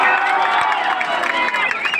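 A large crowd at a political rally in Tanuku cheers and claps steadily, a dense continuous roar with some spoken voices mixed in.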